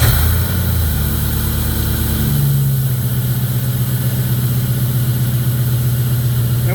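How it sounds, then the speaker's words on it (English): A 2002 Jeep Grand Cherokee 4.7 HO V8, just repaired after a melting ignition coil problem, runs at a steady, smooth idle, with a loud, continuous low engine hum. There are no voices. "She's got a nice smooth idle."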